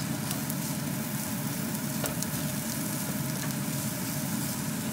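Carrot pieces drop into sizzling garlic and ginger in a cabbage stir-fry pan, producing a soft, constant frying crackle with a few faint clicks of stirring.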